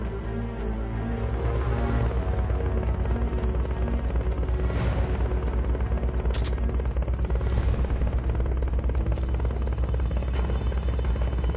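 A military helicopter in the Metal Gear Solid Peace Walker video game drones loud and constant with heavy thumping rotor noise, joined by bursts of gunfire and booming impacts throughout.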